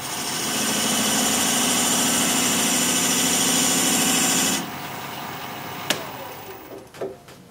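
A wood lathe spins steadily with a continuous droning whir while a chestnut spindle is turned, then winds down and stops, leaving a few faint knocks and handling noises.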